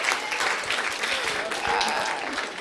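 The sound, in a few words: applause for a teacher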